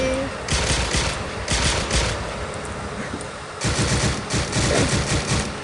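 An M60 machine gun with a red dot sight fires in a modded video game, dense bursts of rapid shots in two long stretches with a brief lull between, loud and close.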